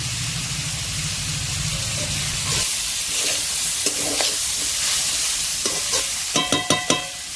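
Bamboo shoots tipped into hot oil with a bay leaf and dried chili tempering, giving a loud, steady sizzle under stirring, followed by a few sharp utensil clatters against the pan near the end.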